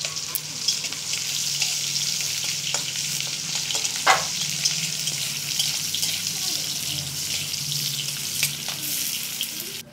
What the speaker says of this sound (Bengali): কেটে রাখা পেঁয়াজ কুচিগুলো দিয়ে দিলাম। ওটা একটু লাল হবে